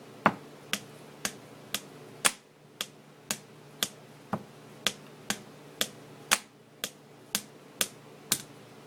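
A pen strikes a desk in a steady, evenly spaced beat of about seventeen crisp, close taps. Some hits land heavier as bass accents among the lighter snare-like clicks, with no talking.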